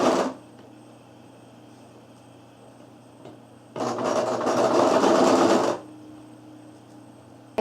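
A sewing machine stitching over fabric for a tattered flower embellishment: a steady, close motor whir runs for about two seconds in the middle of the clip, set between quieter stretches of low room hum.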